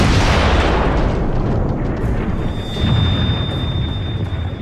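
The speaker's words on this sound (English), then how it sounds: "the Austrian artillery's Skoda cannons enter into action against Belgrade" Heavy Austrian Skoda artillery cannons fire on Belgrade in 1914, a loud, dense rumbling roar of cannon blasts that fills the whole stretch without any clear pauses.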